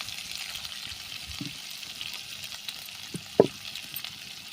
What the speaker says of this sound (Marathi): तर वाटण आपल्याला परतून घ्यायचं आहे थोडंसं, जेणेकरून त्यातला कच्चेपणा निघून जाईल